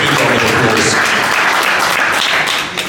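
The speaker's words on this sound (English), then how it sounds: "certainly, there's a big round of applause" A press conference audience gives a big round of applause at an Aquila Boxing Promotions event for Fourie vs Daneff. The clapping is loud, dense and continuous, then eases off slightly near the end.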